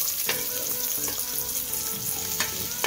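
Garlic and onion frying in oil in a kadai, a dense bright sizzle that stays close and steady, punctuated by a few quick stirring scrapes, with no one talking.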